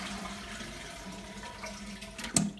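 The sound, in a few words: Caroma toilet flushing, tank emptying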